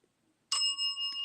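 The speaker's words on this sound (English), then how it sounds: "Okay, I hear the bell." A single bright bell ding rings out after a moment of quiet, its clear metallic tone sustaining and lingering, with a faint second tap near the end.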